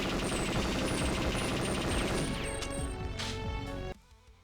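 Dragon assault rifle from a video game firing in rapid bursts, dense repeated loud shots over several seconds before cutting off abruptly into a quieter tail.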